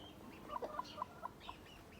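Chickens cluck in a short run of five evenly spaced, soft clucks, fairly quiet over faint background noise.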